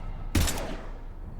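A single sharp gunshot burst in the video game Mass Effect 3, aimed at a security camera, cracks out loudly and briefly, then trails off into a fading echo over low background hum.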